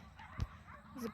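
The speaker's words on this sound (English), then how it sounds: "sorry about the dogs" A couple of short dog barks and yips, fairly faint and brief, over a low background hum.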